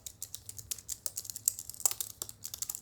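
Fast, light typing on a full-size Logitech MX keyboard for Mac, a quiet, close patter of crisp key clicks in quick uneven bursts, with no voices.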